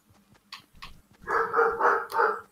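A person vocally imitates a dog, with a few short yips and then a run of louder, fuller barking sounds, close and fairly loud.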